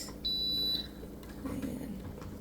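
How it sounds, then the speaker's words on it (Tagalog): A kitchen appliance, likely a waffle maker, gives a single sustained electronic beep lasting about half a second, fairly loud and close, followed by quiet household rustling. "So, nag-beep na siya, guys."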